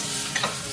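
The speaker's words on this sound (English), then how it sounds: "So I'm going to give that a quick stir." Chestnut mushrooms turned in butter in a pan over medium heat, a brief soft stir with a light scrape over steady sizzling.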